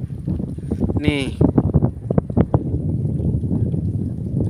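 A boat's motor, stated to be a Hardan engine, rumbles steadily and close by throughout, with someone speaking briefly over it near the start.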